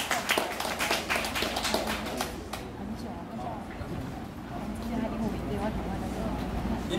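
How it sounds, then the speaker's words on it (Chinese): An audience at a talk welcomes an intern with a burst of applause, dense and busy for about two and a half seconds, then thinning into quieter room noise with some murmuring. "大家可以稍微听一下，掌声鼓励"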